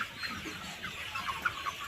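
Sonali super hybrid A+ chickens clucking in a poultry shed housing about 1900 birds, several overlapping short clucks at moderate distance over a quiet farm background.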